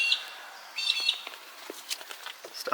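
Birds in a breeding loft chirp and tweet in short, scattered calls, fairly close and moderately loud, with no talk.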